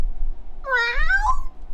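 A person vocally imitates a cat's meow, a single rising-then-falling drawn-out mew, close and clear over a quiet background.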